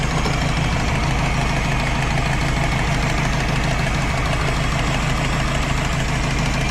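A Morris 8 car engine runs at a steady idle, close and loud, with an even, unbroken mechanical drone throughout.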